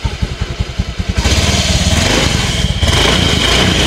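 A Honda injected scooter engine (Beat, Vario or Scoopy type) runs close by after a throttle body service, a steady pulsing idle that rises to a fuller, smoother drone after about a second and holds there.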